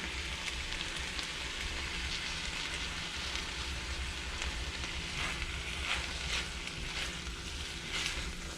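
Extra firm tofu warms in a pan for lettuce wraps, producing an even, rain-like sizzling hiss that holds steady throughout at moderate loudness.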